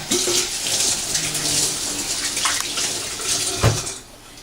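A hand rinsed under a running tap in a home kitchen while baking mini chicken biscuits: a steady hiss of flowing water with faint splashing, one brief clunk near the end, and soft bird-like coos in the background.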